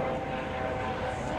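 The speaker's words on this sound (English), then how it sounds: "that's a different helicopter" A helicopter passes overhead with a steady, continuous engine and rotor drone at moderate distance. The level stays constant and no one speaks.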